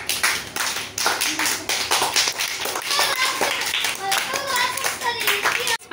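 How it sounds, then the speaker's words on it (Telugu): A class of children claps for a classmate, a lively, uneven burst of many hands with a few young voices chirping over it before it cuts off. "గుడ్. క్లాప్స్."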